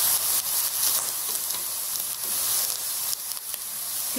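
Grated coconut and caramelized banana sizzle and fry in a pan, a steady close hiss with small crackles throughout and no talking.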